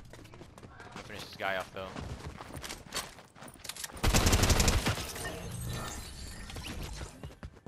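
Rapid bursts of gunfire in Fortnite Chapter 5 duos, with a loud volley of shots in the middle and more firing around it, while players talk over the action.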